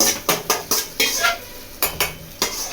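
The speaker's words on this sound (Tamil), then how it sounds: "சக்கரை பொங்கலுக்கு தாளிச்சு போட்டு" Tempering in hot oil for sweet pongal: quick metallic scrapes and clinks of a ladle against a pan in a steady rhythm, about ten strokes, close and clear, over a faint sizzle.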